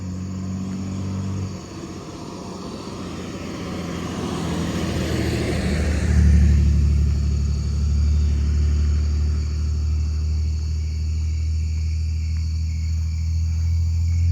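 A vehicle rumbles past along a neighbourhood road at night, a low engine drone that swells around the middle and lingers, with a steady chorus of crickets and katydids trilling above it.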